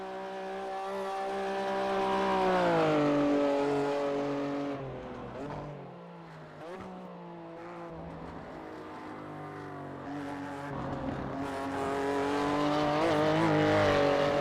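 Race car engine on a lap of Thruxton in iRacing, revving hard with rising and falling pitch through gear changes, dipping briefly as it slows for a corner before accelerating loudly again, continuous and close.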